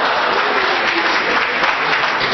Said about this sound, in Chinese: 谢谢大家雷鸣般的掌声